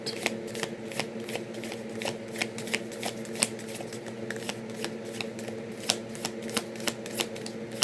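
Tarot cards shuffled by hand, a close, quiet run of rapid rhythmic riffling snaps repeating steadily with no talking.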